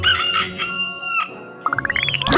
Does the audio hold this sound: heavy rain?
no